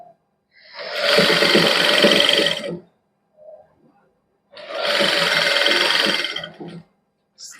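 A sewing machine stitches lace onto palazzo pants in two steady, loud bursts of whirring, separated by a pause of a couple of seconds. There is no talking.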